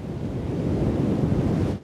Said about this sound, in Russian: Смотрите, какая волна!